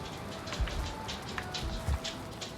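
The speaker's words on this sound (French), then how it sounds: "Bon, il pleut toujours." Rain patters steadily in the video game Valheim, with occasional heavier drops tapping against surfaces.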